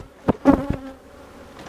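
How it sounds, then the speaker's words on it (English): Honeybees buzz close by during hive supering in Tiffin, Ohio, as a few loud, short buzzing passes with quiet gaps between them. "Already a couple bees inside."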